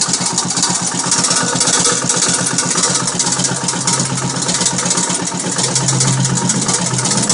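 A Sears Suburban garden tractor's small engine runs steadily close by, a continuous loud chugging with a rapid even pulse and no talk over it.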